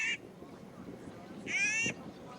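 Wild ducks or geese native to a glacial-lake area of the Canadian Rockies call in two short, nasal bursts, one brief and one longer, heard at moderate distance over outdoor background noise.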